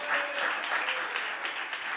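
Congregation applause in a church during a Spanish-language sermon: a steady, dense wash of many hands clapping together that holds for about two seconds with no speech over it.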